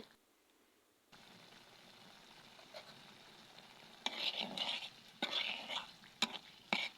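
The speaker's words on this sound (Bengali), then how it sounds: "এবার আমি টমেটোগুলো দিয়ে এটাও ভালোভাবে কষিয়ে নেব।" Tomatoes are sautéed with spices in a pan for a fish curry. A low sizzle runs under quiet scraping, then sharper stirring and clattering bursts come near the end.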